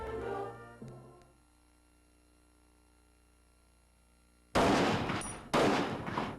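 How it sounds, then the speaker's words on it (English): Sniper gunfire from a recreational vehicle near Grayson and Broadway in San Antonio, captured in archival TV news footage: two loud, abrupt bursts of shots cracking out after a long stretch of near silence, each ringing off briefly. "sniper or snipers are at this moment firing from what is believed to be a recreational vehicle"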